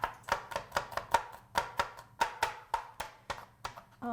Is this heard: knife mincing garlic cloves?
yes